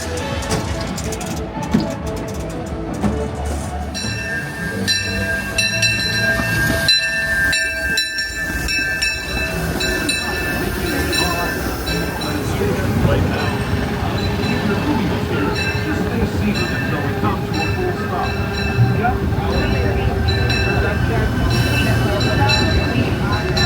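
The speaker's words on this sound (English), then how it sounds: "We're gonna ride the train all the way around to Jungle Cruise" A Disneyland train rumbles and clatters steadily along the tracks, loud and continuous, with faint tonal squeals and a voice murmuring over the ride.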